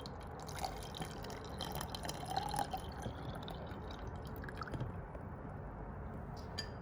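Water trickles and drips into a laboratory beaker for volume measurement, a soft, steady liquid sound without any talking.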